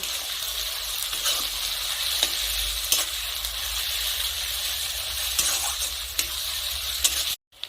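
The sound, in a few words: ginger garlic paste frying with onions, being stirred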